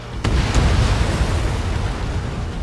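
A missile explosion downs an enemy bomber in the jet combat game Ace Combat 7: Skies Unknown: a sharp crack, then a loud, heavy rumbling roar that stays high to the end.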